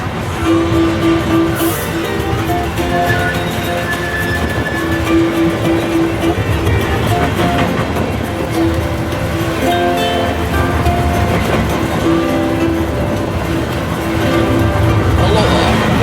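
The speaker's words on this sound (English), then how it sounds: "This 2-mile, 22-minute train ride will take you through a working plantation of pineapple and other crops" A tourist train on a two-mile ride through a working pineapple plantation rumbles steadily with rolling wheel clatter and engine drone, heard close from aboard for the whole stretch.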